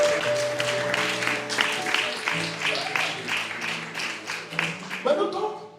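A church congregation applauds and cheers, sustained clapping and crowd noise throughout, with a voice speaking over it and musical tones underneath.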